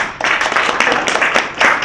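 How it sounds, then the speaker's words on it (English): A room full of people claps steadily, a warm continuous applause with no voices over it. "I think the presenters deserve a big clap"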